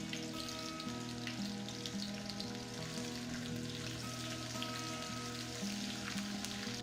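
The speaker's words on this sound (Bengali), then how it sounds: "তাই আমি আমার মতো করে পেঁয়াজটা ভেজে নিচ্ছি।" Onions frying in hot oil on an electric stove, being browned for a tilapia dish. A steady, moderate crackling sizzle runs throughout, with a faint tonal hum behind it and no speech.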